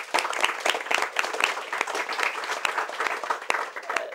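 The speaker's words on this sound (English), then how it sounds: "So please, a round of applause for Dr." An audience at a panel event on the fight against Ebola applauds a doctor being introduced. The clapping is steady, dense and loud throughout and carries no talk.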